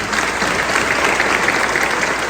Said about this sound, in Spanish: Vamos a dar un aplauso a San Nicolás.